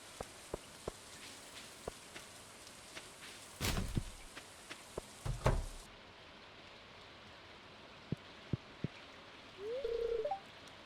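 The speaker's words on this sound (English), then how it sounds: "Apparently this rain is supposed to be completely harmless, just an unusual phenomenon in nature." Rain in the video game Stardew Valley, a soft continuous hiss of falling drops with scattered sharp ticks and a couple of brief louder bursts, faint and steady with no speech.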